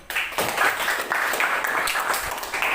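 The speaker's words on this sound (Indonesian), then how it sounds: "Tepuk tangan untuk kelompok 3." Applause for a student group in a classroom lesson: a steady, moderately loud patter of clapping from a small group, lasting the whole short stretch.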